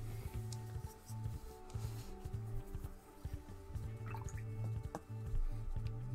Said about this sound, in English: Add in some water.